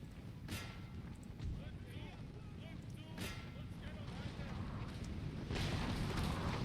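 Artillery barrage in a Napoleonic-era strategy battle with Austrian forces, heard as a continuous rumble of distant booms and crackling fire, with a few sharper blasts standing out and the din swelling louder toward the end.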